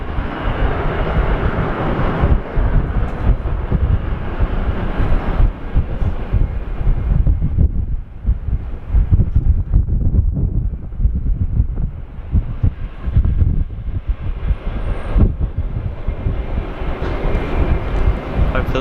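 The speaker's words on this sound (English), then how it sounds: "Slowing down. Yeah, this A380 will go to runway 25" An Airbus A380 slowing down after landing at Sydney Airport on a windy day makes a loud, sustained engine roar that rises and falls, with gusts buffeting the microphone throughout.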